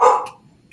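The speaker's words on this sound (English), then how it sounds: "sorry, dogs are going to bark" One close, sharp dog bark at home that quickly fades, followed by a faint, brief second yip further off.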